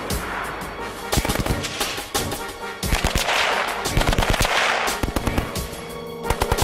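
A machine gun fires repeated rapid bursts at a tree, loud sharp cracks in quick rhythmic strings with short gaps between volleys and echoing rumble behind them.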